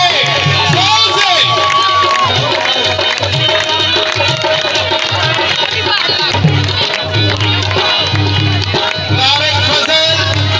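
A large crowd at a foundation stone ceremony in Azad Kashmir cheers and shouts continuously, loud and close, with whoops and a voice over a loudspeaker cutting through the roar.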